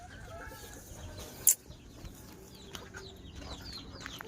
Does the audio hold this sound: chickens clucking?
yes